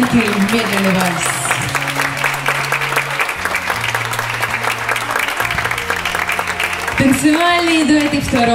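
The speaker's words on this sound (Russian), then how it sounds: "ваши аплодисменты, медленный вальс" An audience at an open-air Pro-Am ballroom dance event in Kyiv applauds after a slow waltz, with steady, dense clapping throughout, while music and an announcer's voice carry on over it.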